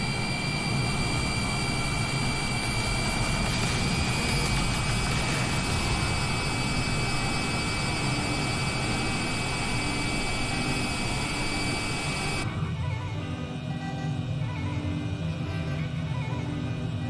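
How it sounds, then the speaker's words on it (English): A jet airliner lands in Microsoft Flight Simulator 2020 at Opa-locka airport, heard from a Honda Jet cockpit as a loud, steady engine roar with whining tones that drops abruptly near the end. "Looks like another plane just landed."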